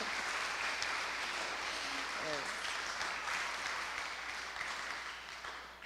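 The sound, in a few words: audience applause at school graduation ceremony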